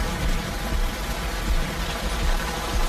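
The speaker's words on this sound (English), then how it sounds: "I'm in the tropics. And it's hailing." Heavy tropical rain and hail pour down onto a shelter roof, a dense, continuous hiss with scattered harder patters and thumps, loud and close throughout.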